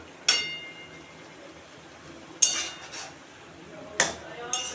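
A metal spatula clanks and scrapes in a pan of fried prawns, spinach and eggplant. Four sharp, separate strikes come at irregular intervals, with faint quiet stirring between them.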